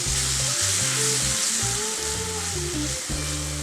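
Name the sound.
onions and capsicum frying in a pan with cream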